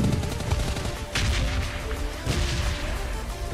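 Gunfire from an assault rifle in PUBG Lite, a dense burst of rapid shots fired steadily and close, with a few louder cracks standing out over the run.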